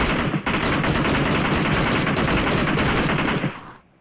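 Dense automatic gunfire in a battle royale video game's final-zone fight, a loud unbroken burst of rapid shots for several seconds before it cuts off.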